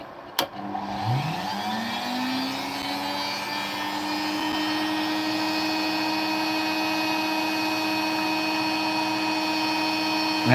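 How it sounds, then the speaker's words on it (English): A power tool spins up and grinds steadily, cutting sand off the corners of an opal stone, a sustained whining drone that rises quickly and holds loud and even. "I can try cutting the sand off the corners"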